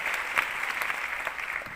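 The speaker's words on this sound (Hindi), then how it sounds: "जोरदार तालियां हो जाए।" Audience applause at a company achievement event, a steady, fairly faint wash of clapping that lasts under two seconds.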